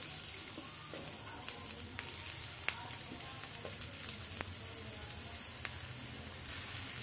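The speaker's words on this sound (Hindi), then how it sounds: "ऑयल गर्म होने के बाद फर्स्ट में ऐड कर रही हूँ ये ऑनियन।" Chopped onion sizzling in hot oil in a pan while paneer achari masala is being cooked, a steady soft crackle and hiss with scattered sharper pops, moderately quiet and close.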